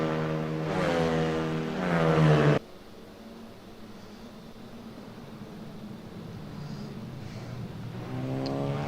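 A formula race car engine in Assetto Corsa drones with rising harmonic tones, cuts off abruptly, then idles under a soft hum before revving back up, close and steady without speech.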